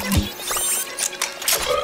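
Whirring, clattering mechanical noise of a cartoon central shoe vacuum running in a toy dreamhouse, busy and continuous with rattling, squeaky and sucking sounds.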